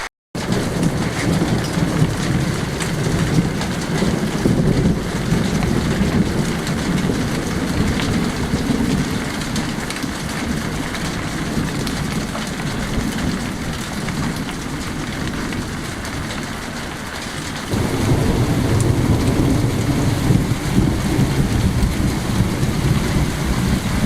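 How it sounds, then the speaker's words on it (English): A thunderstorm outside an old cave kitchen brings a steady, loud wash of rain with low rumbling thunder underneath, building louder and heavier in the final stretch, with no one talking. "Hopefully we're going to get a cracking thunderstorm that's going to clear the air."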